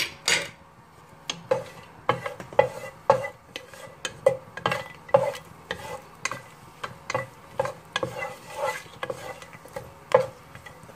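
A metal spoon clinks and scrapes repeatedly in a pan as a pinch of asafoetida and whole spices go into hot oil, with light sizzling beneath the irregular taps.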